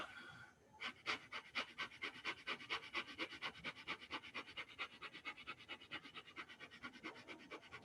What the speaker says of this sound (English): So you go right into the breath of fire.